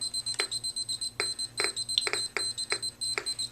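Rapid electronic beeping chirps from a Polimaster radiation detector alarm repeat in an irregular, quickening pattern, with a steady high-pitched whine running continuously underneath.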